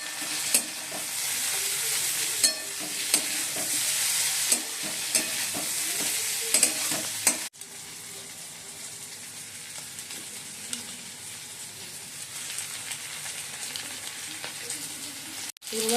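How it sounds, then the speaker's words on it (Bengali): Capsicum, corn and onion stir-fried in a pan, a steady loud sizzle with scraping stirs and clicks of a spatula for the first half, then a slightly quieter continuous frying hiss with occasional knocks. "ক্যাপসিকাম আর কর্ন দিয়ে দিয়েছি, পেঁয়াজও দিয়ে দিয়েছি, একটু নাড়াচাড়া করে তারপর চিকেনগুলো দিয়ে দেবো"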